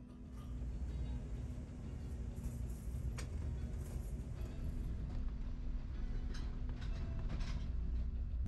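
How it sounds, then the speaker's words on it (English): An Amtrak Acela train rolling into its Boston station, heard from inside as a steady low rumble of wheels and running gear with faint clicks and squeaks as it slows. "As our train comes to a stop,"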